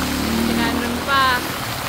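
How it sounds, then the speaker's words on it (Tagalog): Rain falling in Wright Park, Baguio, near a water fountain, heard as a steady, dense hiss of drops on surfaces, with a voice faintly present. "pero umuulan na talaga"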